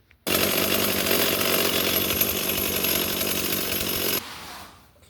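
A Stihl 028 chainsaw engine catches and runs loud and steady at close range for about four seconds, then drops off sharply and fades out.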